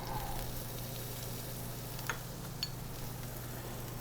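Shallot is added to a hot cast iron pan after rib eye steaks have been cooked on a Kamado Joe, giving a steady, moderately loud frying sizzle with a couple of faint pops throughout.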